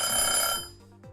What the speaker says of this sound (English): that was the hydrate timer